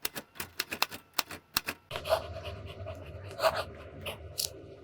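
A TWSBI fountain pen with black ink writes on paper: a run of crisp, separate taps and strokes, then a denser scratchy scraping of the nib, close and quiet with no voices.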